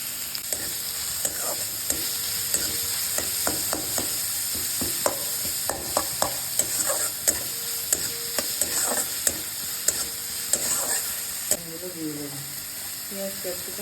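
Onion and green chili fry and get stirred in mustard oil in a kadai, a steady sizzle broken by repeated sharp scraping strokes of a spatula, close and clear.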